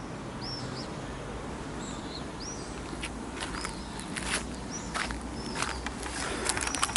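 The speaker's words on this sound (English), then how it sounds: "listening to bird song" Several birds chirp and whistle in short, scattered calls over a steady outdoor hiss, with the calls growing busier toward the end.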